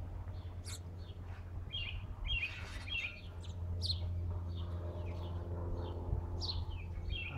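Blue jay calling while attacking a baby squirrel, sharp repeated harsh calls in short bursts over a low steady outdoor hum, fairly close and clear with no talking.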